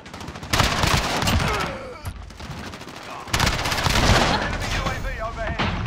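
Rapid automatic gunfire and single shots from the MP7 and other weapons in a Modern Warfare ground war match on PC, loud and close in dense bursts, with a brief lull before another heavy volley.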